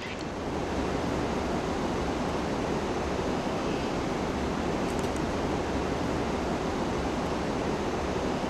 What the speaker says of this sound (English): Soothanabi Fall is one of the major waterfalls in Kudremukh area.